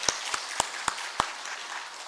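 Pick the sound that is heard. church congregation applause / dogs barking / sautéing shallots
church congregation applause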